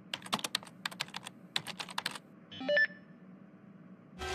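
Fast typing on a computer keyboard in a quick run of crisp keystrokes, followed by a couple of short electronic beeps and a final burst of noise.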